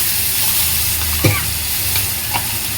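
Mustard paste with green chili, onion and garlic frying in a pan for Bengali eggplant achari, a steady close sizzle with a couple of brief stirring scrapes and no talk.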